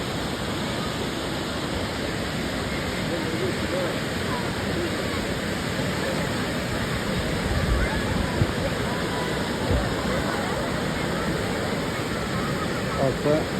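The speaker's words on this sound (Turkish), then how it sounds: "Şelale burada." Constant broadband roar of Muradiye Waterfall in Van, Turkey, steady and fairly close, with faint voices occasionally rising above the rushing water.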